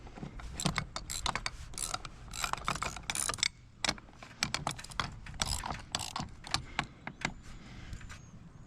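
A lag bolt is tightened into a wall to fix a Starlink Gen 3 standard wall mount: close, quiet rapid clicking and ratcheting bursts in quick succession, with one short pause midway and no talk.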